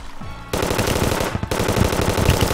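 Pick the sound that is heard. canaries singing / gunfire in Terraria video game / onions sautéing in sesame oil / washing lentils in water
gunfire in Terraria video game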